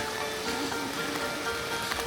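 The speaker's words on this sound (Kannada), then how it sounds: "ಮಳೆಯಲ್ಲಿ ಇದ್ದೀನಿ ಒಂದು ಪ್ಲಾಸ್ಟಿಕ್ ಕವರ್ ಇಟ್ಕೊಂಡು ಕ್ಯಾಮ್ರಾಗೆ" Rain patters on a plastic cover wrapped over a camera on the pilgrimage route to Vaishno Devi, a dense, even drumming that continues steadily throughout with a faint underlying hum.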